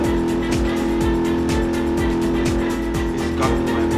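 Car engine in BeamNG.drive descending a heavy mountain road, a steady loud drone with rhythmic knocking pulses as the vehicle fails to engage a gear, with no voices over it.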